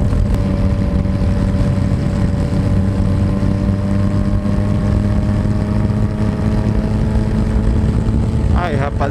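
Yamaha Tracer 900 GT motorcycle cruising steadily at 100 km/h, a constant loud engine drone mixed with heavy wind rush, with a brief chirpy sound near the end.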